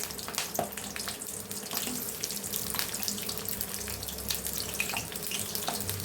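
Chopped onion and curry leaves fry in oil for street-style egg kottu parotta, giving a continuous, even, close hiss with faint scattered crackles and no talk.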